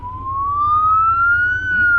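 Police siren wailing in a steady rising tone close by, heard from a motorcycle during a New Zealand restricted licence ride, over low engine and road rumble.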